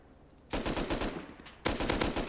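Gunfire in the survival game Rust comes as two loud bursts of rapid automatic fire, each a dense rattling volley, with a short gap between them.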